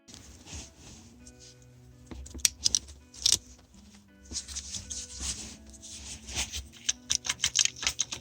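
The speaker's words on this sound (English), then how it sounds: "Replace this plastic zip tie." A plastic zip tie is pulled tight during a clutch job on a Nissan Xterra or Frontier, giving bursts of quick ratcheting clicks that speed up toward the end, close and fairly crisp, with no voices over them.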